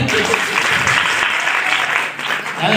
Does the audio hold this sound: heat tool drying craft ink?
no